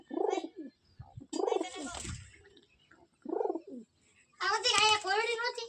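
Several bursts of pigeon cooing from a newly acquired pigeon and its mate, close and fairly loud, coming in short separate phrases with pauses, the last one longer and busier.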